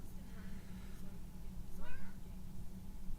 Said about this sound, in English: Can you guys hear my cat under me?